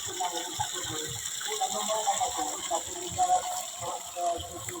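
Natural spring water flows steadily on a farm, a continuous trickling wash under intermittent talk and rhythmic mechanical clicking.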